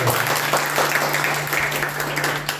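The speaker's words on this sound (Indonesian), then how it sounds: "Kasih tepuk tangan dulu buat Tuhan." A church congregation at a Sunday worship service claps together in a warm burst of applause, steady then gently tapering, over a low electrical hum.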